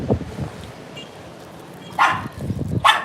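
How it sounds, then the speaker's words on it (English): A dog barks at a bird in a few short, sharp bursts with pauses between, fairly close and clear, with faint background noise. "here's the dog barking at a bird"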